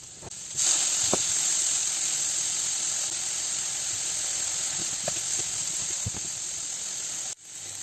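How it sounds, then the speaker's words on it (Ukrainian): Onion and carrot frying in butter in a pan, giving a steady, loud sizzling hiss with a few faint clinks and scrapes of utensils, close by and continuous until it cuts off near the end. "Цибуля і морква трохи підсмажилися"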